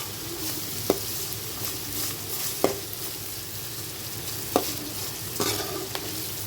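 Onions fry and sizzle in a pan with rock salt and turmeric, a constant close hiss broken by several distinct scrapes of a spoon stirring every second or so.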